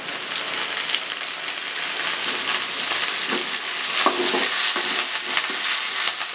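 Curry leaves dropped into hot oil with onions for a Tamil-style dish, sizzling and crackling steadily throughout, with stirring scrapes and small bursts of spatter, close and continuous with no talk.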